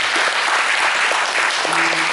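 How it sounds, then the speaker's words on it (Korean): Audience applause at a Korean memorial gathering, a dense steady wash of many hands clapping throughout, fairly loud, with a brief tonal hum near the end. "다시 한번 큰 격려의 박수 부탁드립니다"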